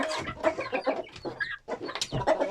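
Chicks and poultry, including turkeys, cluck and peep close by on a small farm while being fed eggs, with rapid overlapping calls coming in short bursts throughout.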